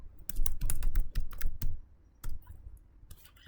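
Router configuration commands typed on a computer keyboard during a Cisco networking exercise: rapid, close clattering keystrokes in two bursts separated by a short pause, then a few scattered taps, with no voice.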